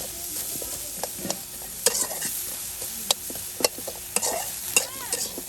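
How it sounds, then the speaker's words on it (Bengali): Onion and garlic frying together in a pan for bharta: a steady low sizzle with intermittent sharp scrapes and clinks from stirring, close and moderately loud. "এই যে পেঁয়াজ রসুন সব কিছু একসাথে বেজে নেওয়া হবে ভর্তা করার জন্য।"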